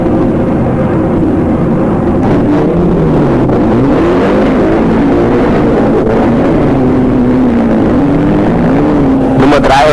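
Audi 80 rally car driven by Reinhold Weiß, a loud engine rising and falling in pitch as it revs and shifts, continuous and close throughout.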